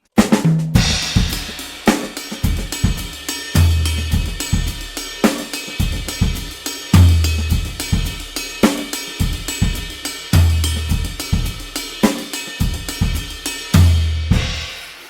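A drum kit plays a steady samba groove, low floor tom thumps repeating under brighter cymbal and snare hits, loud and close with no talking.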